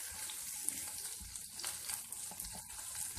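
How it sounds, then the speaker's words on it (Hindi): Ginger-garlic paste fries in a pan for a baingan bharta, giving a soft continuous sizzle with faint scraping and stirring. The sizzle is fairly quiet and stays even throughout, with no talk over it. "हम इसमें अदरक लहसुन का पेस्ट डालेंगे और इसे भी अच्छे तरीके से फ्राई कर लेंगे"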